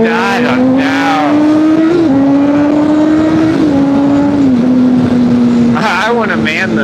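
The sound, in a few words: Honda CBR600RR motorcycle accelerating through the gears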